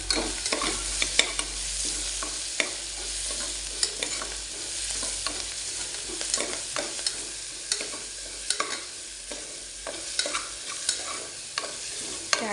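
Curry leaves frying in hot oil in a pan, a steady close sizzle with crackling pops and occasional stirring scrapes, no voices.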